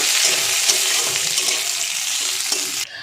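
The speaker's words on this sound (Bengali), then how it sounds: "কিছুটা কাজু বাদাম আমি এটা হালকা করে ভেজে নেব একদম হালকা করে দেবো" Cashew nuts frying lightly in ghee give a steady, close, loud sizzle with faint stirring scrapes, easing off slightly near the end; no one speaks.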